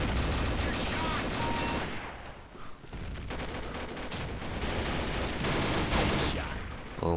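Gunfire in Combat Arms, a loud, sustained burst of automatic shots with a brief lull in the middle, then heavy firing resumes to the end.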